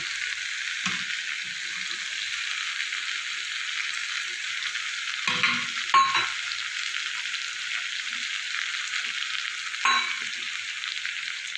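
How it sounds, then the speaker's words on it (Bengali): Fried meat tipped into a hot pan of sizzling oil while cooking a Bengali cabbage ghonto, a steady close frying hiss broken by a few brief clatters and stirring knocks. "এই ভাজা মাংসটা দিয়ে দেবো"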